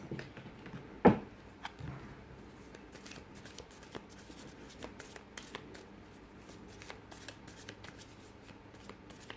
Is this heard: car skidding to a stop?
no